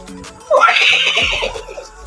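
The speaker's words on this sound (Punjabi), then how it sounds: "ਘੋੜੇ ਦੀ ਆਵਾਜ਼" A horse neighs once, a loud, clear whinny of about a second rising out of near silence and trailing off, with no other sounds around it.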